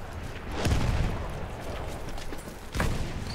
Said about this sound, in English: Absolute explosions everywhere here.